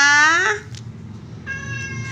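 A fat cat meows for food, one loud drawn-out meow up close, then a quieter second meow that trails off.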